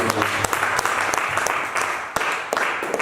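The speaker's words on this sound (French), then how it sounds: "Acclame Jésus, acclame Jésus" Church congregation clapping steadily in a large room, a continuous wash of applause with occasional sharp louder claps, faint voices mixed in underneath.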